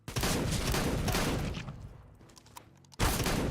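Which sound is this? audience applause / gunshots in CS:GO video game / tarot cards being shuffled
gunshots in CS:GO video game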